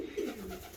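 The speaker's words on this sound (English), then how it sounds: "there's quite a lot of birds in here" Racing pigeons cooing in a loft, a short low soft coo close by over quiet background.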